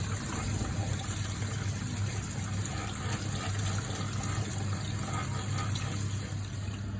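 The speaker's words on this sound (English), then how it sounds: "You want to make sure that you wash the rice thoroughly." Steady running water rinses rice for a chicken curry, a continuous close gush like a tap filling a bowl, with no talk.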